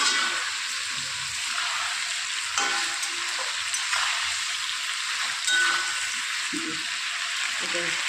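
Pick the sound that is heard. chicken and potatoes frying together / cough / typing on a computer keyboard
chicken and potatoes frying together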